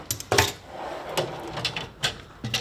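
A tool box drawer holding sockets slides open in a few short scraping, clattering bursts, close and fairly quiet, with small metallic knocks of tools shifting inside.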